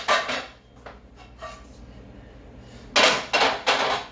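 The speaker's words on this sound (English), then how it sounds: "This is an aluminum pan." Aluminum restaurant-quality pan handled in a home kitchen, giving an early pair of clanks, a few faint knocks, then three loud close metallic clatters near the end.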